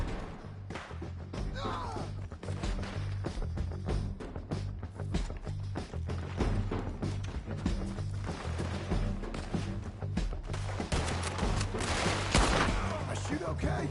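Gunfire in the video game Red Dead Redemption 2, a dense stream of rapid shots and impacts over constant mid-level game noise, continuous throughout with a heavier burst near the end.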